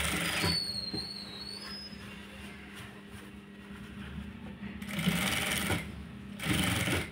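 A sewing machine stitches the side seam of a blouse in short bursts: a near, whirring run at the start, a quieter pause, then two more loud bursts of rapid stitching.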